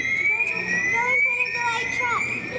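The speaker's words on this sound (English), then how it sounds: "That means that Wade is hurt somewhere and he's not moving, and that we have to go in and get him" A firefighter's motion alarm (PASS device) sounds at a Calgary fire hall, a loud, steady high-pitched electronic tone with a rising pitch, close and continuous, with faint talk and background noise beneath it.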